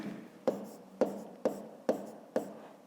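Pen strokes marking numbers on paper by hand, five sharp taps at a steady half-second rhythm with soft scratching between, close and quiet, no voice.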